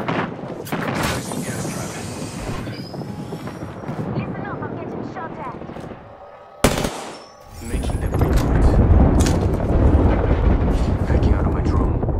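In the Apex Legends video game, dense automatic gunfire rattles loudly before a sudden grenade blast cuts through mid-clip, after which heavy shooting and rumbling battle noise resume.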